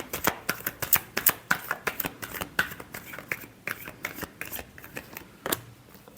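A deck of tarot cards being shuffled close up, with crisp rapid riffles and snapping flicks that thin into a few scattered slaps toward the end, with no talk over it.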